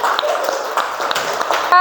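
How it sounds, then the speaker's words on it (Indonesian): A class of students claps briefly during a lesson on the caliph Abu Bakar, a short burst of hand-clapping with young voices mixed in. "Iya, benar, tepuk tangan."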